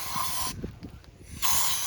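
Brake cleaner sprayed from an aerosol can while cleaning an oil filter lid during an oil change on a 2013 Dodge Grand Caravan: two short bursts of bright hiss, the first half a second, the second starting near the end, with a quiet gap between.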